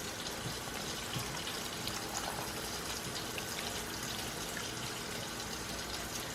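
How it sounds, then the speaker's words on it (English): Water pours steadily into a pot for chicken broth, a continuous close rushing fill with no talk over it. "So I'm gonna start adding in 24 ounces of water."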